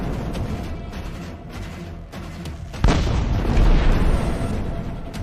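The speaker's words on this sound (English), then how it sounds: "a Ukrainian tank fires point blank at another Russian APC" A tank fires point blank at an armored personnel carrier in a war zone, one sharp, loud blast cutting through rumbling background noise and followed by a sustained roar that slowly fades.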